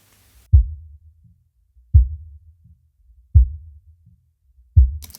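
A kick drum reinforced with a sub kick in Studio One thumps four times at a slow, steady pace, each hit a deep, boomy low punch with a short decay, alone and loud.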